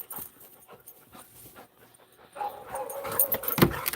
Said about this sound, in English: Oh my goodness, dogs.